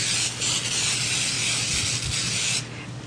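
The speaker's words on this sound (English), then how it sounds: "I'm going to spray my pan first" A steady, loud hiss of cooking spray sprayed onto a pan, close up and lasting about two and a half seconds before cutting off to quiet room noise.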